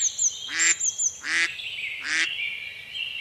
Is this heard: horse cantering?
no